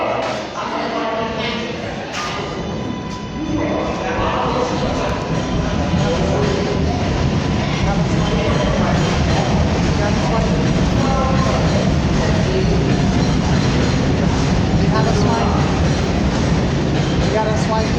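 A subway train rumbles and clatters at a station, with screeching metallic squeals early on and then a loud sustained roll, while people talk nearby.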